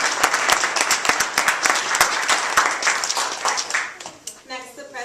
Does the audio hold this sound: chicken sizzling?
no